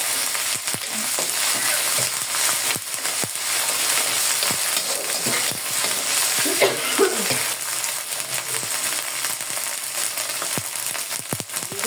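Ginger garlic paste fries with fried onions in a pan, making a continuous close sizzle broken by repeated scraping stirs and a few metal clinks from the spoon.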